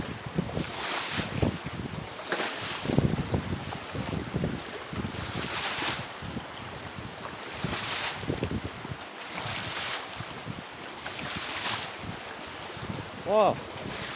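Very rough, choppy river with waves heard up close, a continuous churning wash with recurring surges of spray and wind buffeting the microphone.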